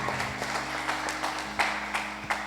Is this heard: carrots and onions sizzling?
no